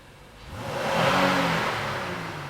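A 2016 Honda Pilot Touring's 3.5-liter, 280-horsepower engine revs up to a steady, loud roar, swelling over about a second and then holding with a slight fade, alone with no talk.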